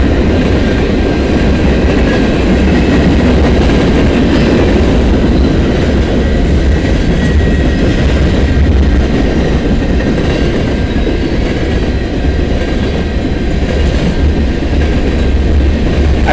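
A loud, steady freight train rumble with Norfolk Southern locomotives fills the whole stretch, heavy low-end roar with faint metallic clatter of wheels on rails, no voices.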